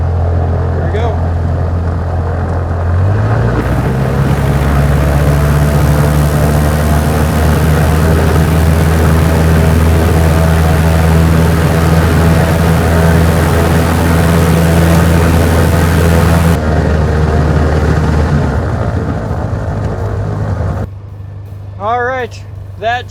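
A Beechcraft Sierra's piston engine and propeller climb into a full-power ground run, holding a loud, steady droning roar for about twelve seconds before throttling back to a lower idle, with short spoken remarks near the end.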